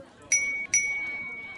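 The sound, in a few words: bell ringing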